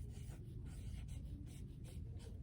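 A pen or pencil writes by hand on paper nearby, quiet scratchy strokes coming in a quick run of short bursts with brief pauses between them.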